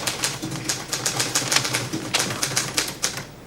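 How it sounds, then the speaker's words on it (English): Someone types on a typewriter: a steady, close run of crisp key strikes with a brisk, slightly uneven rhythm and occasional heavier clacks, heard alone without voices. "She's typewriting, isn't she? Yes, that's right, she's typing."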